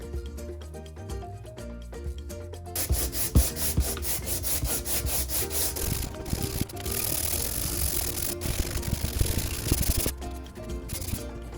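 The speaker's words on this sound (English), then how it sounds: "I need to get this to an even, smooth surface, so it's time to sand." Steady, gritty rubbing of coarse 60-80 grit sandpaper on hardened clay goes on for several seconds, close and fairly loud, after a short quieter stretch at the start.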